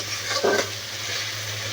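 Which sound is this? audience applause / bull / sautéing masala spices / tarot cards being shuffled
sautéing masala spices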